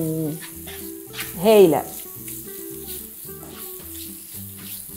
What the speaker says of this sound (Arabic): هاي نخليهم يتقليو خاطر من بعد باش نزيدوهم البصل